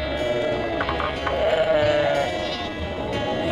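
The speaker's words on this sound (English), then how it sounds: "That was the sheep." A sheep bleats repeatedly, loud and close, its wavering voiced cries running almost continuously over a short stretch with no talk.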